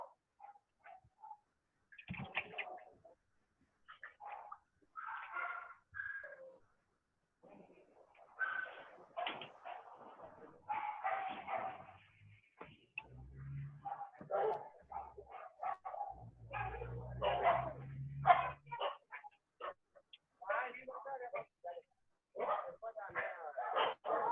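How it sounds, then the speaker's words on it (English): Many dogs at a shelter bark, yip and whimper in bursts throughout, fairly close and overlapping, while a person talks now and then. "this might be a little noisy that I'll have to tell you. And this is where we have all our permanent resident dogs."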